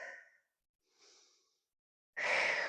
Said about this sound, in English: Using my exhale with the effort.